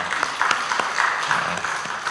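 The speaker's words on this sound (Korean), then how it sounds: "하나님께 영광의 박수 올려드립니다" A church congregation applauds during a Sunday worship service, a dense, steady wash of clapping that holds evenly for about two seconds with no voices over it.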